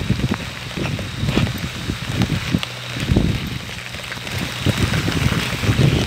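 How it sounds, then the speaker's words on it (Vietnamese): Heavy rain pours down outdoors at night during a hunt for scorpions and beetles, a dense, continuous patter and splatter of drops close by, loud and steady with no talk. "Trời mưa đang rất là to."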